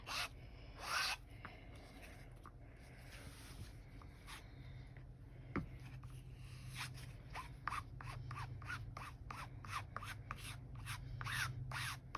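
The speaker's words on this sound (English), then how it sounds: "You're scraping it to take off the excess." Steady rough scraping and rasping strokes of excess OdiCoat being scraped off cotton fabric, close and fairly quiet, repeating in a quickening rhythm with a few louder scrapes.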